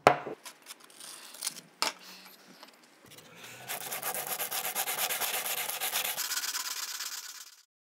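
A plastic car part, such as a mirror or bumper, is hand sanded with 180-grit sandpaper: a few short scratchy rubs, then several seconds of steady rapid back-and-forth strokes, close and clear, with no talking.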